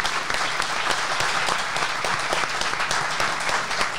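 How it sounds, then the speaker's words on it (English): A live studio audience at a car talk show applauds, with steady, dense clapping from many hands throughout, evenly loud and close, and no talking over it. "Give yourselves a round of applause."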